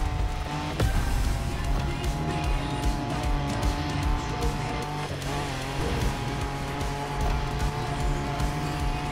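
A race car in The Crew Motorfest driving off-road in a video game, its engine roaring steadily and continuously with a dense rumbling drone, no voices.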